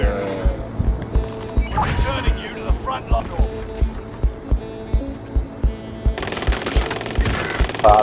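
Rapid gunfire in a multiplayer shooter video game, a steady run of sharp repeated shots across the whole stretch, with excited players talking over it and a louder burst near the end.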